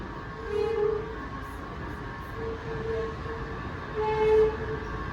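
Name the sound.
Washington Metro train arriving at station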